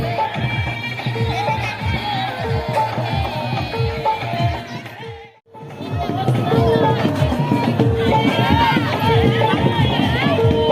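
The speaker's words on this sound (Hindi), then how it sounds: "आप देख सकते हैं कितनी भीड़ है।" A dense crowd of Chhath Puja devotees murmurs and bustles on the bank of the Son river. The steady babble of many voices, with music in the background, dips briefly midway and then returns.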